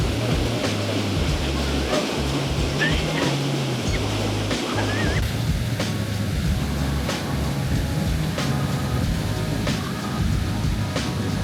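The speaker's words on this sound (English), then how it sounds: "Tons of water are simply crashing down here." A large waterfall on the Nile in Uganda roars heavily from close range, a loud, unbroken wash of crashing water with a low rumble, steady throughout with no speech.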